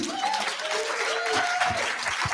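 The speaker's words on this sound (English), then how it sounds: "Big applause, everybody." Audience applause at a university summit session, a steady wash of clapping from a seated crowd lasting a couple of seconds, with faint background tones and murmur mixed in.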